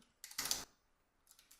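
Short burst of computer keyboard typing, a few quick close keystrokes clustered together followed by a couple of lighter taps, with no voices.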